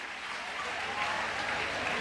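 An audience breaks into steady, dense applause, a continuous wash of clapping that holds at an even loudness for a couple of seconds.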